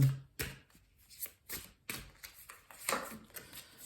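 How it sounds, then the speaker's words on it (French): A deck of fairy oracle cards is shuffled and a card drawn by hand, giving a quick, soft run of papery riffles and flicks. The sounds are close and fairly faint, with no talk over them. "je vais vous sortir une carte de l'oracle des fées"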